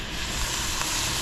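Beer splashes into pork simmering in salsa verde in a hot pan, setting off a brief, loud, even hiss.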